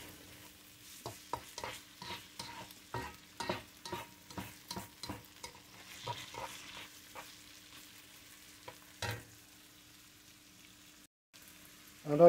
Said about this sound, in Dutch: Nadat je het een minuutje, anderhalf minuut hebt laten bakken.